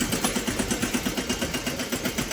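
A very small farm tractor, about 600 kilograms, idles close by in a cotton field, its engine pulsing in a quick, even chug.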